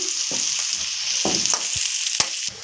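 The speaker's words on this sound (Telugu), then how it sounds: "బ్రౌన్ కలర్ వచ్చేదాకా వేయించుకోవాలండి వీటిని." Large sliced onions fry in a pan until brown for a chicken curry, with a loud, steady sizzle broken by several sharp clicks and scrapes of a spatula stirring.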